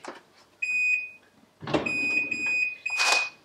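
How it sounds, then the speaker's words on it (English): An oven's alarm gives a few clear electronic beeps in short bursts, with rustling and handling noise between them in a home kitchen. "Ah, so they give you the alarm."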